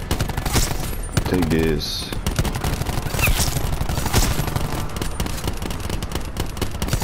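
Rapid automatic gunfire fills a Call of Duty Black Ops 4 campaign battle, with continuous bursts and clattering shots alongside game effects, while a voice speaks briefly over the din.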